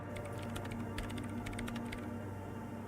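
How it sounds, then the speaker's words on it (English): Rapid keyboard typing in the video game Disco Elysium, a steady stream of clicky keystrokes over a constant low electronic hum, with no talking. "her hands typing hundreds of commands into the machine"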